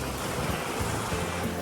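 Strong sea water surges onto a Konkan fishing shore in a continuous loud broadband wash of waves, close and unbroken for a brief moment.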